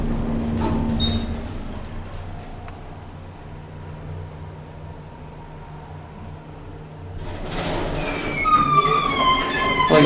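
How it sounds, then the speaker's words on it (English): A tall modernized General Oiltronic hydraulic scenic elevator runs with a low steady hum and faint mechanical rumble, then a louder whooshing, rattling stretch near the end as the car moves off. "Like I said, these are insanely high hydraulic elevators. There goes the elevator."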